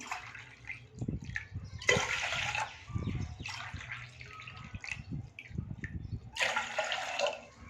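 Water pours from a tumbler into a pressure cooker for cooking pearl millet, in several splashing bursts with gurgling and dripping between pours, close and fairly quiet.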